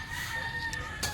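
Chickens in a fenced yard cluck briefly and softly. A short burst of close fowl sounds rises over a faint background hum, with no talking.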